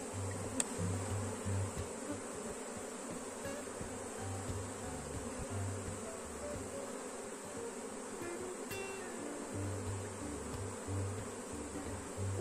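A honeybee swarm with a new queen hums steadily around a hive during a colony split, a dense continuous buzz close up with individual bees droning past now and then.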